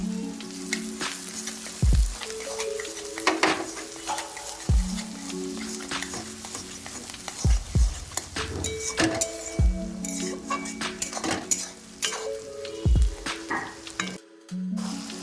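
Onions with chopped capsicum sizzle in a pan for an egg curry. The frying hiss is steady and close, broken by sharp clinks and scrapes of a spoon stirring against the pan.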